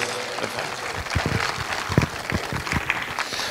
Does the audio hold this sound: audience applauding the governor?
yes